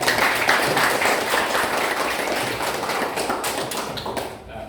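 Sustained applause from a group of students and a teacher in a classroom, dense steady clapping that fills the room close by before tapering off slightly at the end.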